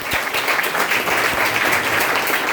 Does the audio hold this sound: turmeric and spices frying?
no